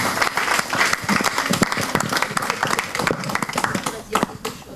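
Applause for Laurent Valère at a university gathering in the Antilles, a crowd clapping in dense, uneven bursts throughout, fairly close and mixed with voices talking over it.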